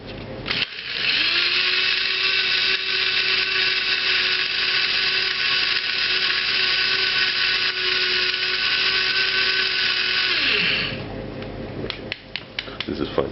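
Electric spice grinder whirring hard through turmeric, coarse salt and spices, a steady high-pitched buzz for about ten seconds that spins down, followed by a few clatters.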